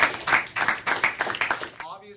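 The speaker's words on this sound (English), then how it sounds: "Everyone give them a round of applause." A class gives a round of applause, a short burst of uneven clapping from a group of students in a room, lasting under two seconds before fading.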